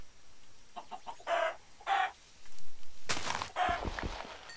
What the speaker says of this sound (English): Need to go kill some more chickens.